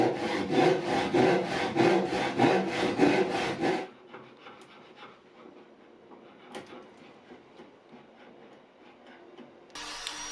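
A hand saw cuts a piece off a wooden chair, with about four seconds of rapid, rhythmic back-and-forth strokes up close, then quieter handling and scraping noises and a brief final burst.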